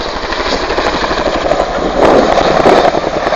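A Royal Air Force Chinook twin-rotor helicopter flies a rollercoaster display at RAF Waddington, its loud, rapid rotor chop forming a continuous pulsing roar that swells stronger partway through.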